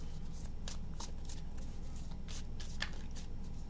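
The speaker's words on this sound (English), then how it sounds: "Two shuffles." Tarot cards are shuffled by hand in quick papery riffles and slides, close and clear over a steady low background hum, with no talk.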